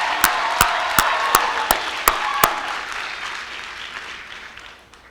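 Applause for college faculty at a graduation ceremony carries a crowd's clapping, with several sharp individual claps standing out early before the sound gradually fades.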